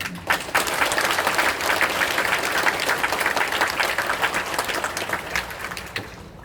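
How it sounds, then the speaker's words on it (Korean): Crowd at a Korean army recruit training graduation ceremony gives a loud, sustained round of applause for the new soldiers, thick and continuous for about six seconds before thinning out and fading at the end. "여기 계신 모든 분들이 뜨거운 격려의 박수를 보내주시기 바랍니다."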